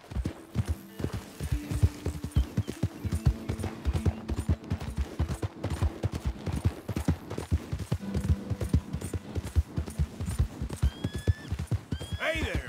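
Horse hooves clip-clop steadily in the Red Dead Redemption 2 video game, a brisk continuous trot close by, with a low hum and occasional tonal game sounds beneath.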